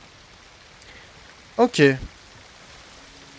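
A waterfall in the video game Ghost of Tsushima produces a steady, even rushing wash of water throughout, and someone briefly speaks over it.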